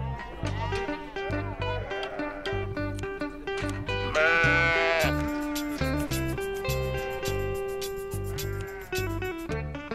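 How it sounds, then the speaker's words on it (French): Sheep bleat loudly and repeatedly while being sheared by hand with scissors in the shade of a tent in Tunisia, the calls close and layered over a droning musical background. "les moutons se préparent à un petit rafraîchissement, au ciseau"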